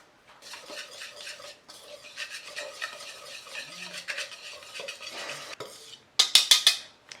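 Dry cake ingredients, including baking soda, being stirred in a bowl: a close, rhythmic scraping and swishing of a utensil against the bowl, ending in a few louder clinks.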